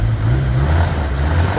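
A 1969 Vauxhall Victor classic car engine running close by, a steady low rumbling hum held at an even level with no talking.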